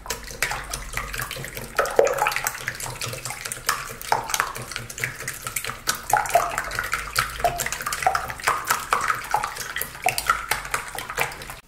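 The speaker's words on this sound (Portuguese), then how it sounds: "Agora eu preciso bater bem esse ovo com esse açúcar." Egg and sugar beaten by hand in a bowl for gluten-free, dairy-free homemade bread, a steady run of quick wet whisking strokes and light clinks against the bowl, close and fairly loud with no talking.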